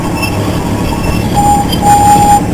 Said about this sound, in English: It's the first time I rode the train.